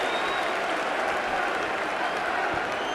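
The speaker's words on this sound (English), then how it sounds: "you took that applause" A rugby league derby crowd at Hull KR versus Hull in 2008 applauds Stanley Gene as he takes a bow, a dense, even roar of clapping from a large stadium audience.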